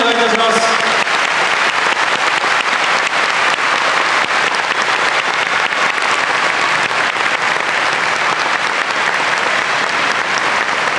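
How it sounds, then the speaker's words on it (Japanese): Sustained, loud audience applause fills the hall at a sumo wrestler's retirement and hair-cutting ceremony, a thick unbroken roar of clapping, with a voice heard briefly at the very start. "ご家族にどうぞ皆さん拍手をお願いいたします。"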